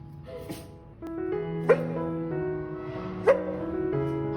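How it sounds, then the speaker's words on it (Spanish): Ángel, a rescued dog recovering from an infection, gives two short, sharp yips about a second and a half apart over a steady, whiny tonal background, close and fairly loud. "qué lindo, ladrando"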